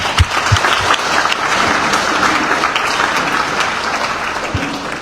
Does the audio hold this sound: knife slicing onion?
no